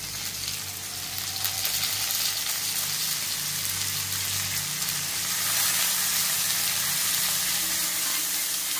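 Stuffed brinjals frying in hot oil with cumin, mustard seeds and onion, giving a steady, close sizzle and crackle throughout with no talking.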